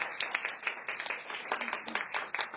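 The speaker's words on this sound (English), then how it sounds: "Please give a big round of applause." A forum audience at a diplomats' roundtable applauds the UK ambassador, with a moderate patter of clapping from a modest crowd, somewhat distant and uneven.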